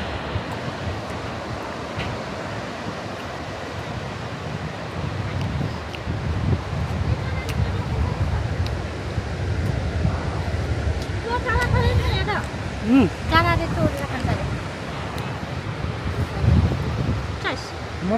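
Strong wind buffets on an exposed hilltop at Castle Point, a steady rushing roar with gusts that hit the microphone, while people talk and call out faintly underneath.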